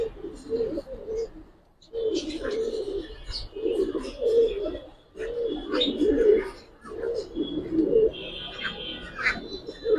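Pigeons coo in a loft of Giribaz and coloured breeds, their low, throaty phrases repeating in bursts that start and stop, with faint chirps and rustling above and a voice now and then.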